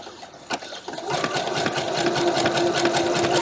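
Sewing machine stitching the outer edge of fabric along a presser foot mark, with a seam ripper guiding the cloth, running as a steady fast rhythmic whir after a brief start, close and continuous.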